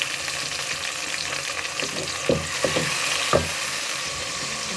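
Tomatoes sizzle in a frying pan with onions as a steady broadband hiss, punctuated by a few sharp clicks and spatula scrapes midway through.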